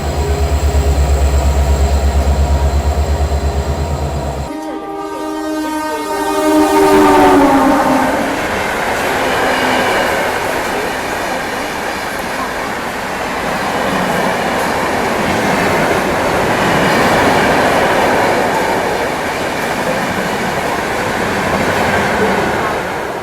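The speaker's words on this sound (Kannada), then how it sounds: "ಬಂತು ನೋಡ್ರಿ ಆನ್ ಟೈಮಿಗೆ ನಮ್ಮ ಟ್ರೈನ್" Sogariya–New Delhi Intercity passenger train pulling into an Indian railway station, a loud horn blast at first, then the steady rumble and clatter of coaches rolling past close by, continuing throughout with some crowd noise.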